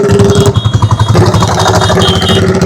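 A motorcycle engine runs up close on a road near Somnath in Gujarat, a loud, lumpy thumping beat of quick pulses that swells with short revs and settles back to idle.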